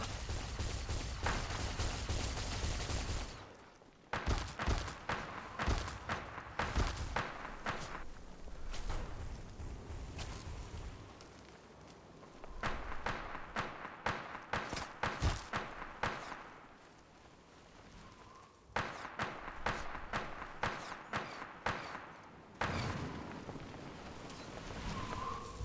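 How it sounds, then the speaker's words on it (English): Explosions and bursts of combat noise in the Fallout game, with people fighting ghouls, come in loud clustered volleys separated by short quieter gaps. "Oh crap, those were explosions."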